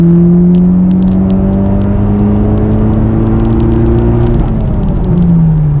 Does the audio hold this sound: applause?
no